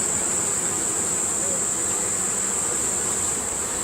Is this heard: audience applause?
no